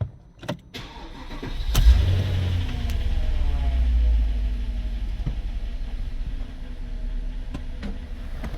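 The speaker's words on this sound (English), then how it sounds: "Car starts." A Porsche Cayenne fresh from a fuel pump replacement cranks briefly with a few clicks, then catches and settles into a loud, steady idle rumble, heard close and alone.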